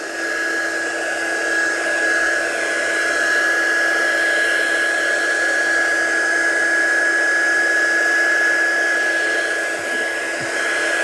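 A hair dryer blowing steadily on a watercolour painting, a loud continuous whine and rush of air with no pauses.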